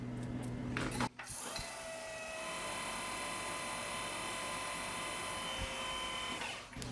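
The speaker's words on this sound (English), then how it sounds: "Using a small center drill." A lathe spins a small stainless steel part while a small center drill cuts into it, producing a steady close, high whine that starts with a few knocks and fades out at the end.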